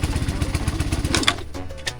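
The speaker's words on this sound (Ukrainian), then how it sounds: "Отак треба глушити мотоцикли." A Geon GNS 300 motorcycle engine thumps in a rapid, loud, close idle pulse, then is switched off and cuts out abruptly, leaving near quiet with a faint clatter after.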